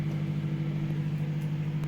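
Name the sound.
microwave oven running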